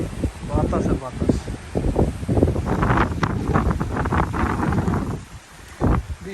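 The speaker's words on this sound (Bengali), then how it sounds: "বাতাস আর বাতাস।" Strong wind gusting outdoors during rain, a steady roaring rush across the whole clip with microphone buffeting and a brief dip near the end, while someone speaks over it.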